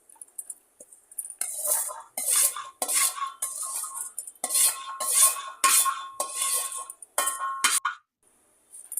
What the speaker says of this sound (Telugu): ఈ పచ్చిమిర్చి మిశ్రమాన్ని మొత్తం వేసుకోవాలి